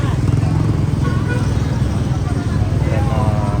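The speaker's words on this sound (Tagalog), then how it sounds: "Grabe yung traffic dito." Heavy street traffic on a crowded roadway with stalls laid out along it: motorcycle and car engines hum and drone continuously and loudly, with voices talking close by.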